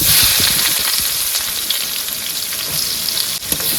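Onions frying in a pan for prawn Maggi noodles, a loud close sizzle with stirring scrapes and clatters, steady throughout and free of speech.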